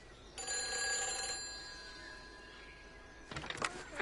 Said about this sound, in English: Oh, there'll be a phone ringing over here.